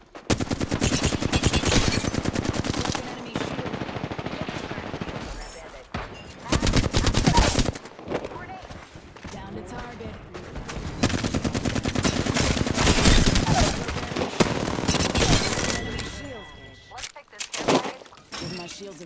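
Sustained automatic gunfire in Apex Legends, loud close bursts of rapid rattling shots with brief pauses between volleys, running over nearly twenty seconds with scattered sharp cracks.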